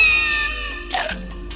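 A cartoonish cat gives one short meow in the 102 Dalmatians: Puppies to the Rescue video game, close and clear over a steady game music background.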